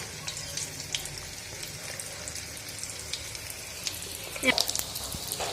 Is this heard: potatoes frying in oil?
yes